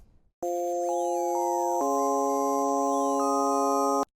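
A dry synth melody plays without the Portal Mandelbrot effect: it starts abruptly, then holds layered sustained tones that step to a new pitch midway, clean and loud, and cuts off sharply near the end.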